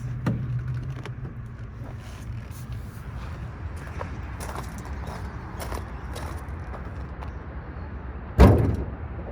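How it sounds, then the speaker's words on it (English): The hood of a 1955 Ford Thunderbird with a 292 engine is opened over a steady background rumble, with faint clicks and rattles leading to one loud clunk near the end. "Let's pop the hood so y'all can take a look underneath."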